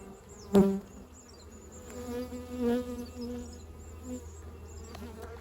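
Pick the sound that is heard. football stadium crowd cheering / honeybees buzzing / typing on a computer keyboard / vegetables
honeybees buzzing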